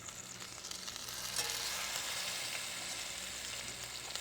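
Spiced oil tempering sizzles steadily in a pan while being stirred, a soft continuous fry that swells slightly partway through, with no talking.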